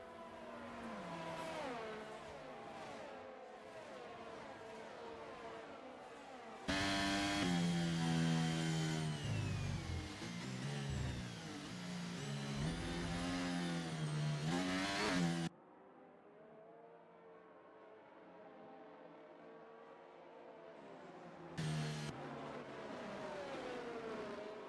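F2 racing cars circulating behind the safety car in a racing video game, a continuous engine drone with shifting revs that swells loud mid-way, then drops to a thinner, quieter whine.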